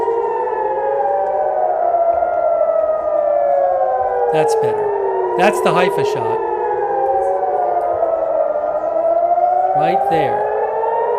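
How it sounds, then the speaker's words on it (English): Several wailing air raid sirens in Haifa rise and fall together in long overlapping sweeps, loud and continuous, while someone talks over them. "Sirens are going off."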